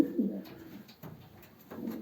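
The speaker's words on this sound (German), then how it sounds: "Ich habe jetzt die Vögel alle in ihre Zellen gesperrt." Pigeons shut in the cells of a breeding loft coo softly in low, rolling phrases, a few calls repeating close by at moderate volume without talking.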